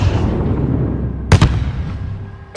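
A grenade blast in the video game Call of Duty: Modern Warfare, embassy mission: two loud, close bursts in quick succession, a brief quieter stretch, then another sharp blast at the end over low battlefield rumble.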